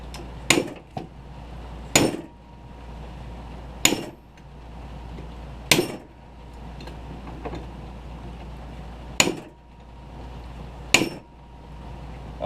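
Sharp metallic hammer blows strike a socket to drive out a wheel bearing from a 1998–2004 Honda Foreman knuckle, about seven loud clanging hits spaced a second or two apart over a steady background hum.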